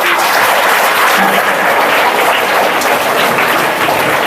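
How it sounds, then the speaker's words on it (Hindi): Audience of children clapping in a hall during a motivational talk, loud continuous dense applause sustained evenly throughout with no pauses. "इनके लिए भाई ताली बजाओ"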